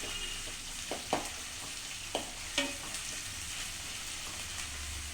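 Ingredients for a raw papaya pickle sauté in a pan with a constant soft sizzle, punctuated by a few distinct scrapes and taps of a spatula stirring them at close range.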